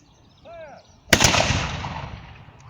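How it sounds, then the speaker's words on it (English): A single loud black-powder musket volley from a historical reenactment at a castle bursts out close by and rolls into a long decaying echo, after a brief faint voice. "You are firing towards the trees, Phil."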